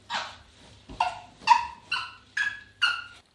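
A puppy gives six short, evenly spaced yaps or barks, close and fairly loud, with quiet gaps between them and no talking.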